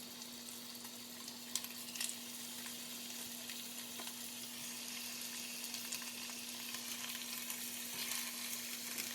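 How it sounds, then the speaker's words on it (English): Chicken fries for broth, a faint steady crackling sizzle with sparse pops and a low constant hum underneath, no talk. "I'll be frying my chicken first"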